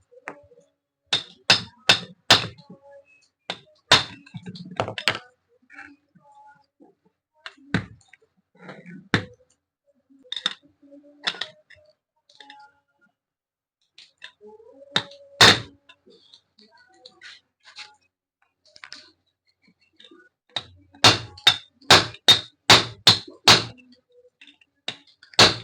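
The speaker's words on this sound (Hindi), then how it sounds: "इसी प्रकार आपको धीरे धीरे हथौड़ी की मदद से मारते जाना है।" A hammer strikes a rod to open the head of a Texmo submersible motor, giving sharp metallic blows in quick bursts of several hits separated by pauses, close and fairly loud with no talking.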